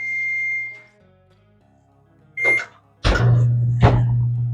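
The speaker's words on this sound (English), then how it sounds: "My oven is preheated and it was just singing songs to me" A home oven signals that it has finished preheating with a short sequence of clear electronic beeps, followed by louder kitchen clatter and a steady hum.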